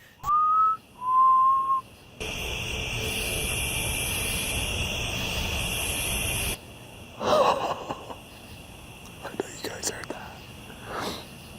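A person gives two short rising whistles in a forest at night while van camping, then a long stretch of hissing noise, followed by faint rustles and scattered clicks, with breathy whispering in between.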